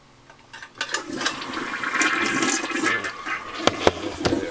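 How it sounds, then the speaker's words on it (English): A toilet flushes with a rising gush of water that swells into a sustained rush and then tapers with gurgling, close by and with no talking. "let me pick them up so I'm going to flush them."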